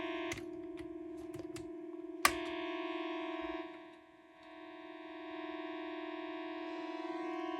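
A Yamaha PortaSound keyboard, just repaired, sounds a steady sustained organ-like chord with a few faint clicks of keys and switches. The tone dips briefly midway and then continues.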